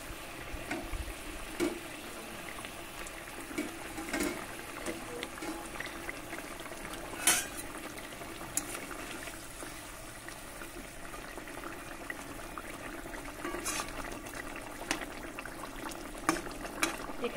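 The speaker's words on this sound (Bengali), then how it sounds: "দেখতেই পাচ্ছেন একবারে টুকবুক টুকবুক করে ফুটছে" Rohu fish curry in a pan simmers at a gentle boil, with soft continuous bubbling and small irregular pops and ticks, faint and close.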